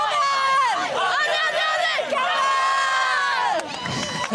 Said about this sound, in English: The Irukandji cheer is going to come on now.